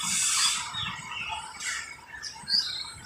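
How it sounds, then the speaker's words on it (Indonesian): Canaries kept as hobby birds at a bus stop with vendors, chirping and tweeting in short bright bursts against a busy background, with occasional wing flutters. "Banyak burung-burung kenari ini, hobi pelihara kenari."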